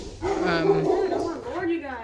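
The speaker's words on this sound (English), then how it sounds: "I do think that the dogs are barking at her" Cane Corso dogs barking and yowling at a cat indoors, a close, loud drawn-out howling bark with a second voice joining, and a person speaking beneath it.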